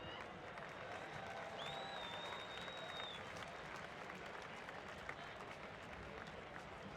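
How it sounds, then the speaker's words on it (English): A stadium crowd applauds at a Major League Rugby match, Seattle versus Utah. The clapping is faint and distant, a steady wash of many hands with no talk over it. "please give one more round of applause for Mr. Rex Caldwell."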